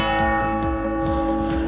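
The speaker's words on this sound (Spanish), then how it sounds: "Están sonando las campanas" Church bells of the Sagrada Familia in Barcelona ring out in steady, evenly spaced strokes, with a sustained resonant hum carrying between each strike.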